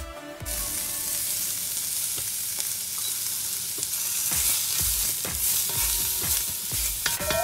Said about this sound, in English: So we're gonna saute the shallots and the garlic.